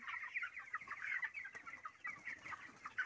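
Twenty-five-day-old chickens on a poultry farm in hot weather cluck and murmur in overlapping bursts, faint and somewhat distant.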